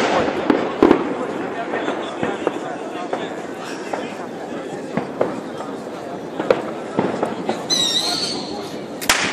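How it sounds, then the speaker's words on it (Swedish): New Year's fireworks and firecrackers bursting across a neighborhood in Blackeberg, Bromma: scattered sharp cracks and bangs, some near and some distant, over a constant crackling rumble, with people talking throughout and a whistling rocket near the end. "Har de inte slut på alla smällare och raketer?"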